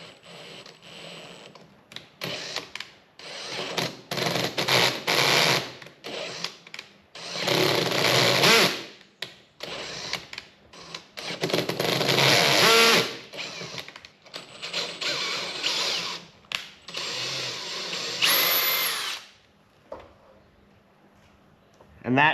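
A power drill tapping a threaded hole in a truck camper being built on a 4x4, whirring in repeated short bursts as it drives in and backs out, with brief pauses between runs and a quiet stretch at the end.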